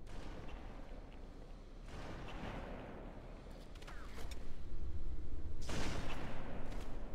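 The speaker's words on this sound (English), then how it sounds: "the Halo 2 rocket launcher is clearly balanced" Rocket launcher blasts and explosions from the Halo 2 video game, a few booming hits and whooshing bursts over game noise, growing louder and denser toward the end.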